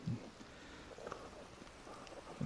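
Steady rain falling in the Minecraft video game, a soft continuous hiss of patter with a few low thumps near the start and end.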